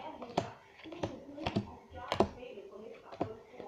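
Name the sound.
playing cards dealt one at a time onto piles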